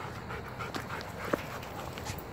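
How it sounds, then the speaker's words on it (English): A young Blue Bay Shepherd pants softly and steadily close by, quick breaths repeating over a low outdoor background in the morning. "Black dog there is my 7-month-old Blue Bay Shepherd Kurgan."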